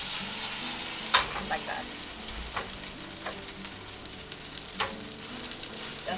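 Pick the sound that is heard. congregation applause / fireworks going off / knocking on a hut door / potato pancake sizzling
potato pancake sizzling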